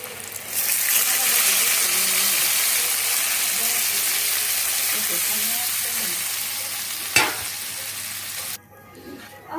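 Goat meat curry sizzles loudly as water is poured into the hot pan, a steady broad hiss running for several seconds with a brief sharp clatter near the end before the frying drops away quieter.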